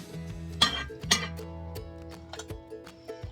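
Serving a meal onto a plate: a few bright clinks of utensils against dishware and scraping sounds, close up, with a humming tone beneath.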